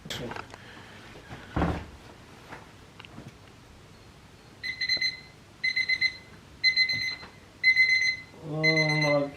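A series of electronic alarm clock beeps sounds in repeated bursts, loud and close, after some scattered household knocks and movement, with another lower-pitched alarm tone joining at the end.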